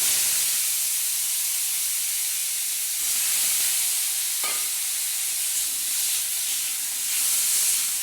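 Diced potatoes hiss and sizzle in hot oil, a steady frying sound that swells at times, with no one talking.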